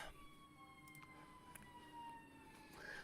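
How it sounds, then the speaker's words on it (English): Emergency vehicle sirens wailing outside, faint and distant, a gliding tone slowly falling in pitch through a quiet indoor room with no talking. "There's sirens outside right now."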